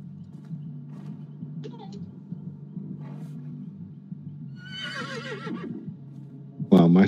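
A horse whinnies in the horror video game Dead by Daylight, a descending, quavering neigh at moderate distance over a low ambient drone, followed by a sudden loud burst at the end.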